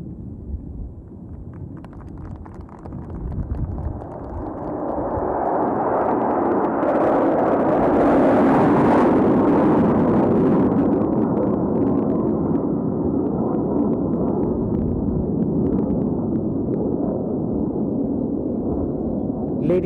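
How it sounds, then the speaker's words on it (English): A formation of military jets roars past at an air force ceremony, a broad rushing engine roar that swells to a loud peak and slowly fades over many seconds. "here is the Black Panther formation about to execute the linear bombast."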